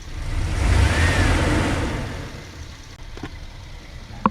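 A van engine revs up and then winds back down, loud and close at first before fading toward an idle with a few faint clicks.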